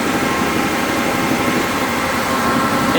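An old 1960 GM diesel engine runs steadily at idle, a loud, continuous rumbling drone with an even mechanical chug and no voices over it.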